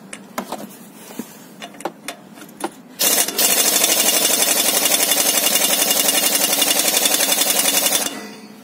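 A Fujiwara impact wrench from AliExpress loosening a wheel nut on a Gazelle van: a few light clicks and taps, then about five seconds of loud, rapid hammering rattle close by before it stops abruptly.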